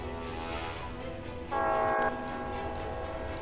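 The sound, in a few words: train horn of an incoming train, from video game Space Engineers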